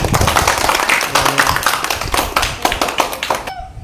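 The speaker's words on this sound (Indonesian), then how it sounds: "Oke, tepuk tangan untuk kelompoknya." Students in a classroom clap together for a presenting group, a dense, loud burst of many hands close by that stops abruptly, with voices faintly mixed in.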